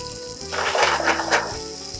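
Yellowtail fish searing in a hot pan over high heat, a steady close sizzle that swells into louder crackling bursts midway before settling back to a softer hiss.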